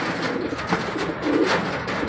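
Pigeons fighting in a loft coo and scuffle close by, with soft throaty calls and fluttering rustles over a steady background hiss.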